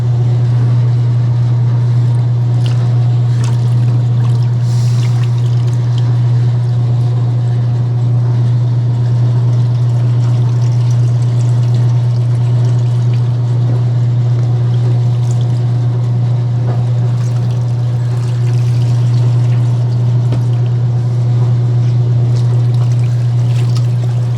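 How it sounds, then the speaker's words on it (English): A 65-year-old washing machine's wringer squeezes waterlogged clothes and heavy jackets into a hamper, making a loud, steady motor hum with water trickling and dribbling throughout, continuous and without talk. "we got to approach the final step, which is to wring all this stuff out into the hamper"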